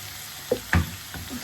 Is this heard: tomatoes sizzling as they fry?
yes